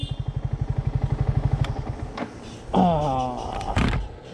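A Yamaha MT15 motorcycle engine idles with a steady rapid pulsing thump, then fades, followed by a rising whine and a couple of knocks and clatters nearby.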